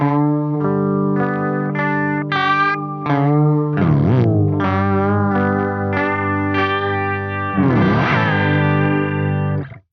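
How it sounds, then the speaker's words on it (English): An electric guitar played through a RecHead cassette recorder pedal set for a chorus effect, with a wavering, shimmering tone and slight grit, notes and chords ringing steadily and loudly with no talking. "then you're getting more of a chorus sound"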